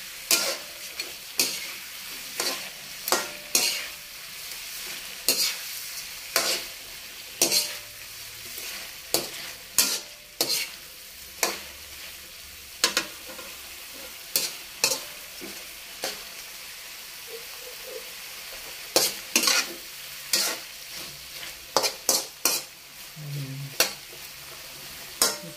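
Shrimp sizzling in a pan while being stirred, with repeated sharp scraping clacks of a utensil against the pan over a steady frying hiss, no talking.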